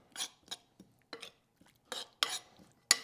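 A salad dressing with strong mustard is stirred in a container, giving a string of quick scraping and clinking strokes, irregular and close, with no talking over it.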